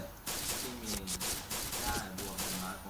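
Rapid gunfire bursts in the PointBlank shooter game, repeated sharp shots layered over a steady game soundtrack with a voice talking over them.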